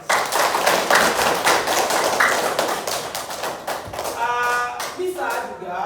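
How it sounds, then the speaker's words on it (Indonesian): A classroom audience of students applauds on cue during a lesson, with dense, steady hand clapping throughout and a few voices rising near the end. "Oke, tepuk tangan dulu."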